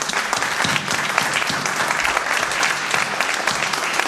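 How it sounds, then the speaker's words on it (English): An indoor audience at a community event in San Jose gives dense, sustained applause, with many hands clapping loudly and evenly for about four seconds. "Let's give her a nice round of applause."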